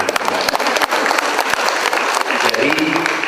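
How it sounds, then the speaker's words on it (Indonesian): An audience applauds at the installation ceremony of a regional crafts council's officers, attended by a public figure, with a dense, sustained wash of clapping filling the hall and a murmur of voices mixed in beneath it. "Boleh tepuk tangan."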